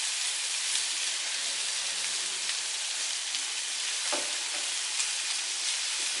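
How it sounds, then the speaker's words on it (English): Meat for cheesesteak sliders sizzles steadily on a 22-inch Blackstone griddle while being stirred, a dense continuous frying hiss with a brief scrape near the end, no talking. "We're just going to give it a little stir."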